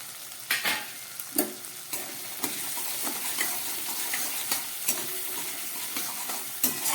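Green peas go into a pan of frying spices, giving a continuous sizzle with repeated sharp clicks and scrapes of a spoon stirring against the pan, close and moderately loud.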